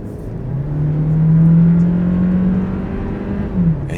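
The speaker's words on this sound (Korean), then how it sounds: "엔진 소리는 엄청 큰데 하나도 재미가 없습니다." A Volkswagen Jetta with a 1.4 TSI engine, in sport mode and taking a one-way curve, gives a loud, steady engine drone from the cabin that swells and rises slightly in pitch, then eases off near the end. No one speaks.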